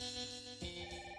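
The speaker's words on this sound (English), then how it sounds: "The moment they turned to have a look at the phone, it started ringing." A telephone ringing in Detective Kobayashi, a faint steady electronic ring tone, brief and unbroken, quiet under soft background music.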